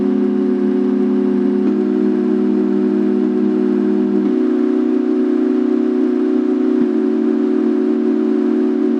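A sustained, looped musical note built from soap sounds, stacked into steady chords that shift pitch a few times. The tone is loud, smooth and continuous, with no talking.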